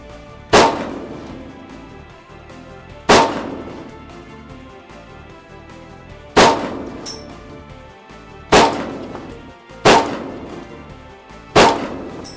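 Six loud rifle gunshots fired at irregular intervals during an outdoor shooting session, each a sharp crack with a brief ringing tail.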